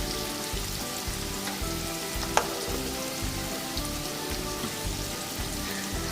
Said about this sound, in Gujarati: એકદમ સારી રીતે ડુંગળી ગોલ્ડન બ્રાઉન થાય ત્યાં સુધી આપણે કૂક કરી લઈશું